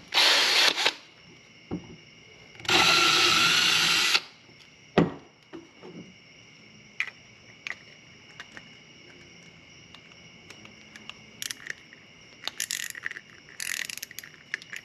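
A power drill fitted with a 15/64 bit bores a hole for a homemade kayak camera mount. It gives a short burst, then a louder whine of about a second, then faint clicks and brief spurts near the mic. No speech.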